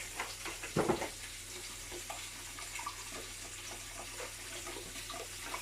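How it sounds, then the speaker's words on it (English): Cold water poured into a jug of whisked eggs and milk for Yorkshire pudding batter, a short splashing pour near the start followed by quieter trickling and dripping, close and fairly faint. "And now I'm going to put a similar volume of water in there as well. Cold water."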